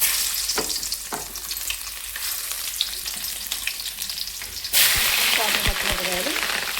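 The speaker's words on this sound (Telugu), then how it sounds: "ఉల్లిపాయలు చక్కగా వేయించుకున్నామండి." Two onions fry in hot oil in a pan for an Andhra-style potato fry, a loud, steady close-up sizzle that swells sharply near the end as the pan is stirred.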